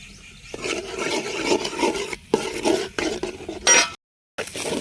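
Goat blood fry being stirred in a pan, village-style cooking with a utensil scraping and scooping steadily and close, a continuous rough rubbing sound with a brief pause near the end.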